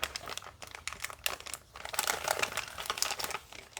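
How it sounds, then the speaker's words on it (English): Crinkly plastic wrap being pulled open by hand on a small boxed item, a quiet close crackling of dense rustles and snaps that keeps going, with no talking. "Let's start by opening the plastic."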